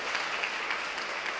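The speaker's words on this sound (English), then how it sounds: "can we give them a round of applause for making today incredibly happen?" Audience applause at a community rapid-response forum on ICE threats and deportation, with brief, moderately quiet, steady clapping from a seated crowd.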